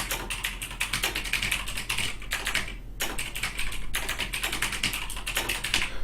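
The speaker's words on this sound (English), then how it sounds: "I type in St. Louis Cardinals Busch Stadium PNG." Continuous keyboard typing while a search for a St. Louis Cardinals Busch Stadium image is entered, close and steady with dense rapid keystrokes and a brief pause near the middle.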